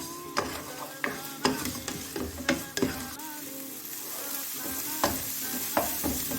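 Onions frying in a pan for a kasuri methi malai chicken, a steady sizzle broken by repeated sharp scrapes and clacks of a spoon stirring, fairly close and even in level, with no voices.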